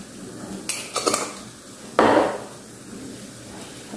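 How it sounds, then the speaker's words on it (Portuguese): Chimichurri with bits of bell pepper and garlic being stirred into food: a few sharp clacks and scrapes of a utensil against a pan or bowl, then a louder scraping sweep, close and otherwise quiet. "Vou dar uma misturadinha aqui."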